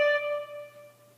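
A single sustained musical note, the opening pattern of an action theme, rings out rich in overtones and fades over about a second, alone without talk.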